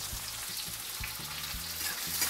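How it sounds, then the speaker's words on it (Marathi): Sliced onions fry with curry leaves and asafoetida in a pan, giving a constant close sizzle with soft low thumps of the spoon at regular intervals. "हे चांगलं कांदा भाजून घ्यायचा बघा।"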